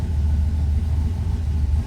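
A car engine on a newly fitted Holley EFI system idles fast right after its first start: a loud, steady, close-up low rumble with no break and no voices.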